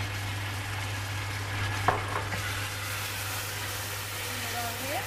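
Crushed condiments being stirred into turnip, pepper, aubergine and leek in a pot, a low steady sizzle with a single sharp clack of the spoon, close by under a constant hum, with a voice talking faintly.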